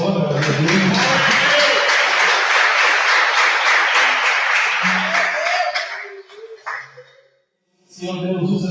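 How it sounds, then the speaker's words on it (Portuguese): A church congregation claps loudly and steadily in dense applause that fades out toward the end, then talk resumes. "Pode aplaudir o Senhor, meu Deus."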